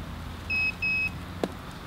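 Two short electronic beeps in quick succession sound clearly over quiet background, followed by a brief soft knock.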